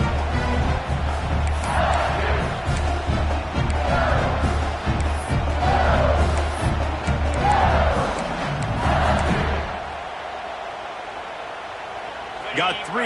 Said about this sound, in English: for an entire game, they are on their feet, yelling, screaming